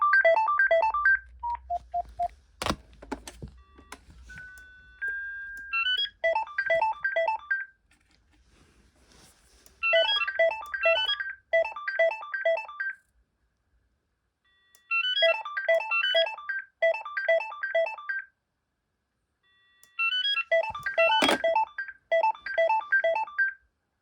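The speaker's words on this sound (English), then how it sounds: "that is a cool ringtone, but it would get quite annoying after like a bit of it playing" A BT2200 telephone's electronic ringtone plays in repeated bursts of quick warbling tones separated by short silences, loud and alone, with a couple of sharp clicks between rings.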